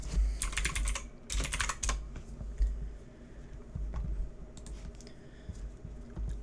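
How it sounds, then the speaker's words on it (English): Computer keyboard typing in quick bursts, close and fairly quiet, with short pauses between flurries of key clicks and no talking. "Let's type in Shang-Chi."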